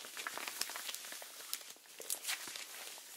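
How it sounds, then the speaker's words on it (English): Close, quiet crinkling and rustling of PVC gloves, handled for ASMR as a run of soft irregular crackles and taps. "make some noise with the PVC."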